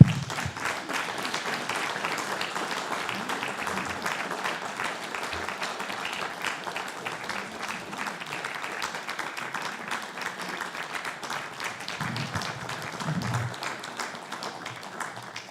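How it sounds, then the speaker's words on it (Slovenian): An audience at the SP Marathon 2019 closing ceremony applauds, with steady, even clapping from many hands sustained throughout and a few voices faintly audible beneath it. "Mislim, da ta aplavz pove"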